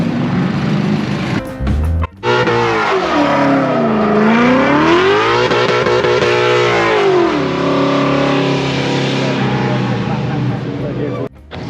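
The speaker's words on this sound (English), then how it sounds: "right now there's some guys drifting" Cars drifting on a course at a car show, engines revving hard in rising and falling sweeps with loud sustained roar close by, speech-like voices mixed in throughout.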